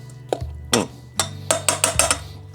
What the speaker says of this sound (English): Pour that right in those onions and peppers.